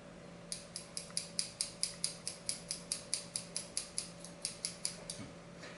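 Hair-cutting scissors snip open and shut in a steady run of about twenty crisp metallic clicks at close range, evenly spaced over a quiet hum with no talking.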